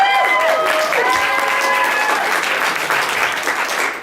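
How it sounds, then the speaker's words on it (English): Sustained audience applause for comedian Forbes at a stand-up joke-off, steady and full throughout, with a few voices and whoops rising over the clapping. "please give Forbes a round of applause"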